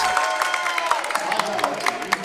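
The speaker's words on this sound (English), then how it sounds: "You can hear the Hurricane crowd to my left fired up" Hurricanes home crowd at a men's college basketball game between Holland and UKC, a loud sustained roar of cheering and clapping with shouts rising and falling, a commentator's voice running over it.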